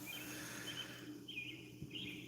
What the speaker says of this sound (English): You gotta admit the bird's kind of loud.